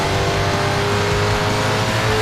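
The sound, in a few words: Audi race car engine revving in Need for Speed Shift video game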